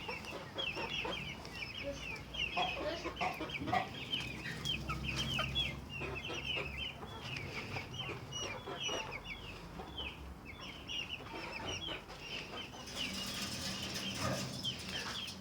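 Many village chickens cluck and chatter continuously in a coop, with occasional wing flaps and faint background murmur, a busy steady farmyard din.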